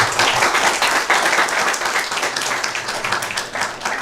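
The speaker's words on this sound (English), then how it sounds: "you guys deserve a much bigger round of applause. Give them a bigger round of applause." A school quiz audience applauds at a government-run energy quiz event in Sikkim, with dense, steady clapping that fills the room throughout.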